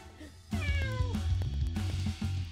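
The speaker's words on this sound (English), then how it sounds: "I just heard my cat" A house cat gives a clear, drawn-out meow with a falling pitch, fairly close, over steady background game music.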